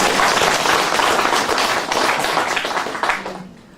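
Audience applause at a live talk event with an invited author, dense and loud clapping that holds steady and then thins and fades toward the end.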